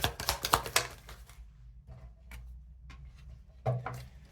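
Tarot cards shuffled and riffled out of the deck, a quick burst of dry papery flicks and taps in the first second and a half, then quiet with a few scattered soft card snaps and one firmer slap near the end.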